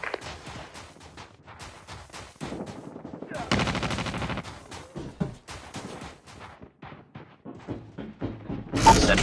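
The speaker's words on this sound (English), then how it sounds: "Sentry gun deployed." Bursts of automatic gunfire from a sentry gun in Call of Duty rattle through a busy game battle, mixed with other shots and effects, loud and close, with a sharp blast near the end.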